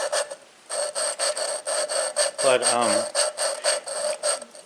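An engine valve on a Ford 201 diesel from a 550 TLB being lapped by hand, giving a rough, raspy grinding in repeated back-and-forth strokes, loud and close, with a brief voiced murmur midway.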